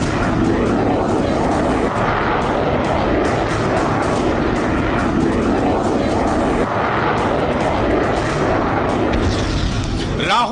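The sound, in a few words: aircraft flying, likely Rafale fighter jet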